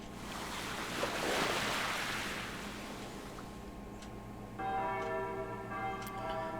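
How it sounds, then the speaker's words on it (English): Church bells ring out on a cold winter Sunday morning, a soft washing roar at first giving way to steady sustained ringing tones that carry clearly without voices. "Rolling sound of bells."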